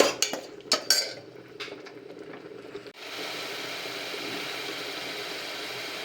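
Spoon clinking and scraping in a pan while green pigeon pea curry is stirred, several sharp metallic taps early on, then a steady hissing sizzle takes over.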